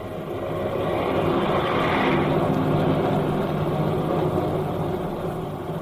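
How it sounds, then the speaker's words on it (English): A fleet of airplanes flies overhead in battle formation as a radio drama sound effect, a steady broad engine drone that swells in and holds loud and continuous, with no voices over it. "Far overhead, a fleet of airplanes soars in battle formation, a jagged spearhead against the fleecy clouds."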